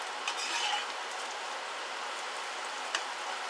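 Food frying in hot oil, a steady close hiss and crackle like rain, with a couple of faint stirring knocks as it is turned in the pan, and no talking.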